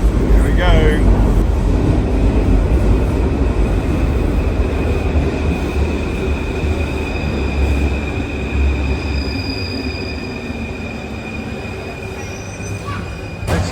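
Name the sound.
Paris metro train underground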